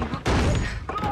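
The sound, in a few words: gunshot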